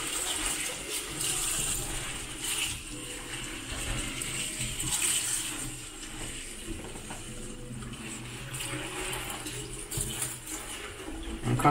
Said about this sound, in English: You may actually run off and wash them properly.